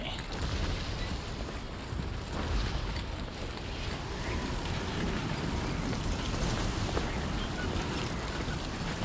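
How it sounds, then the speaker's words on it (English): Strong, steady wind roars through the game world of Death Stranding 2: On the Beach, a dense continuous gusting rush that stays loud for the whole stretch with no clear break. "Why is it so freaking windy?"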